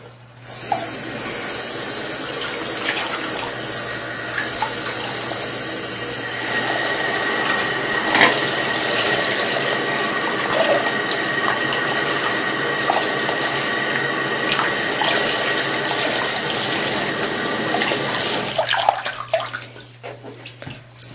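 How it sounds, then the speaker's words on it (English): Water gushes steadily from a tap into a bathtub while it drains, a continuous loud rushing for a long stretch that stops abruptly near the end. "I kind of drain the water and add more at the same time"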